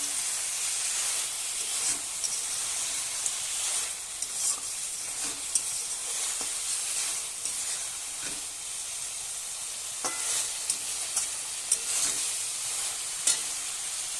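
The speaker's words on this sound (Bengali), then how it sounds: "কাঁকড়ার সাথে মশলাটা কিন্তু ভালো করে দেখো কষিয়ে নেওয়া হয়ে গেছে" Crab cooking with spices in a pan, a steady loud sizzle and hiss of frying with occasional stirring scrapes and pops throughout, no voices.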